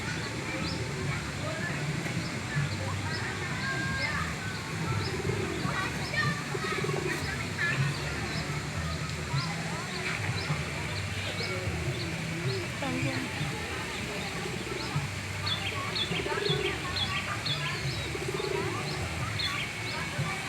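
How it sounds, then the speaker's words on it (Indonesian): Birds chirp and coo continuously at a town square park where visitors feed birds and fish, under steady crowd murmur, children's voices and nearby adult speech. "Oh, ini burungnya ke sini lagi."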